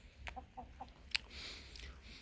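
A rooster and chickens cluck softly in a few short, scattered notes nearby in a snowy farmyard, with a low rumble and faint background hiss.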